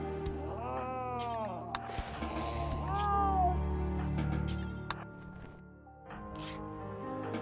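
House cats in the RimWorld video game meow repeatedly in rising and falling calls, several distinct cries overlapping with a low game hum and brief clicks, fairly close and clear with no talking.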